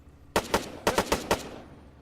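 Five sharp rifle shots test-fired in Arma 3, loud and close, spaced in a quick uneven rhythm over under two seconds, with a brief fading tail after the last.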